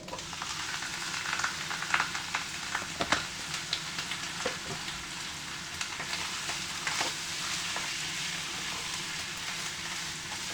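Chicken pieces and ginger sizzle and fry as they brown in a pan. A steady hiss runs throughout, broken by scattered crackles and stirring clinks, with no talk.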